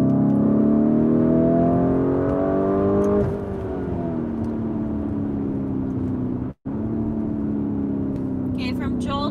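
A 2020 Lamborghini Urus engine revs in Corsa mode, a loud sustained drone climbing in pitch, then dropping and settling into a steady hum with a brief cut midway, heard close and alone.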